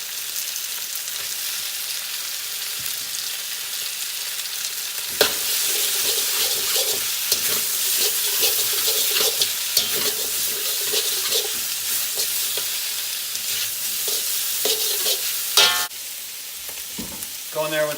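Bok choy and bamboo shoots stir-frying in a hot pan, a steady loud sizzle with scraping and clatter from stirring, growing busier after the greens go in and continuing with brief clinks near the end.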